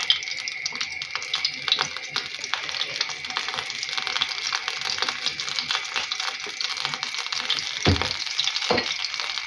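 Steady crackling and sizzling of cheese pancake batter frying in hot oil, a dense bright hiss with scattered pops, continuous throughout.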